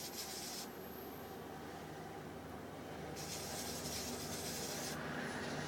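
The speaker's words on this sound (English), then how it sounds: "A couple more passes. This is 2000 grit. This is actually working pretty well." A damaged CRK screw head is rubbed against 2000 grit sandpaper in steady, continuous passes, giving a soft, hissing scrape close by with no voices.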